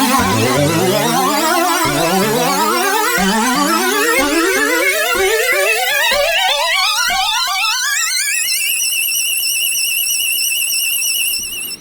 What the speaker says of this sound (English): It's a variation of the Orion sound. It's also an effect sound, of course, but it's a little stronger.